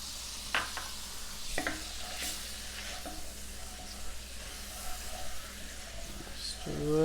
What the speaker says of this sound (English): You can go ahead and add a couple more pads of butter just to finish that sauce up